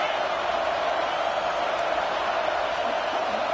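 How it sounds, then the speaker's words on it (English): A football stadium crowd roars steadily for its defense during a red zone stand in a Baylor versus Penn State game, a dense, continuous wall of distant cheering and noise with no breaks. "This crowd is trying to inspire this defense to make a big red zone stop."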